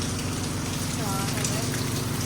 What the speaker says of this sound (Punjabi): ਦੇਖੋ ਕਿੰਨੀ ਸਪੀਡ ਨਾਲ ਮੀਂਹ ਪੈ ਰਿਹਾ